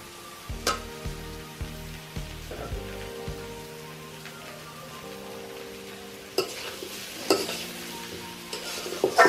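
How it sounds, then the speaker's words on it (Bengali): Green chillies and tomatoes fry in mustard oil with a steady sizzle, while a spoon stirs and scrapes the pan in bursts. Some louder clatter and spattering comes near the end, and nobody speaks. "খাঁটি সরিষার তেল। কাঁচা লঙ্কা এবং টমেটো দেওয়া হচ্ছে।"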